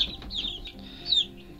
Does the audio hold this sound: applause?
no